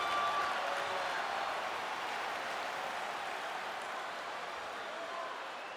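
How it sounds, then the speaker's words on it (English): Hockey arena crowd in the NHL 25 video game: a dense, steady wash of cheering and applause-like roar, loudest at the start and easing slightly, with commentary speech underneath. "You can feel the energy in this crowd."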